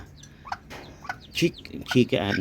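A few bantam chickens cluck and chirp in short, close bursts in a backyard, with small chicks peeping among them.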